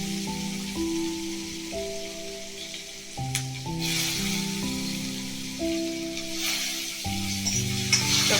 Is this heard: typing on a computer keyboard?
no